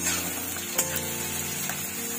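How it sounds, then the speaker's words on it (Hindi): Onions sizzle and fry steadily in hot oil in a pan while making chhole, a constant close crackle with a couple of brief stirring clinks and no voices. "अब मैंने उस तेल में प्याज को डाला है और प्याज को अच्छे तरह से"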